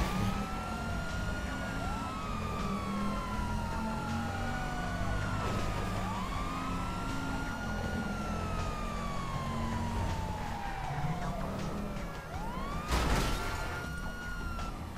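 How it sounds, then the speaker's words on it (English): Multiple emergency vehicle sirens wail and sweep in the video game Grand Theft Auto V, overlapping continuously over a steady engine and traffic rumble, with a loud burst near the end and no talking. "See the sirens? That means move the fuck out my way."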